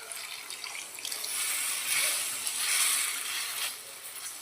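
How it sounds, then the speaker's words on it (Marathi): Heated water poured into a pan while cooking a cashew curry, a steady splashing, trickling stream that swells and eases over a few seconds, close by with no talking. "पाणी टाकून घेणार"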